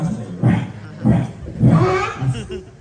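At a village Home Minister game show, a woman imitates a dog barking with her voice. About four rough, rhythmic bark-like bursts come close and fairly loud.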